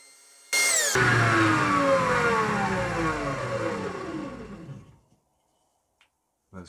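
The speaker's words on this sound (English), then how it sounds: "Alright, 150 grit spindle sander." A 150 grit spindle sander shaping a wooden slingshot: the motor spins up with a loud whine, runs steadily with shifting tone as wood is pressed against it, then winds down to silence.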